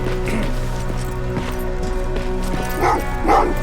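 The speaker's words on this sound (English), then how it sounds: "Oh, what's with the dogs?" Dogs bark in the video game Terminator Resistance: two short barks near the end ring out over a steady low hum and faint background noise, without speech.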